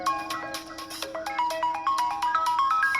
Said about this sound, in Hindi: और अब फोन कर रही है।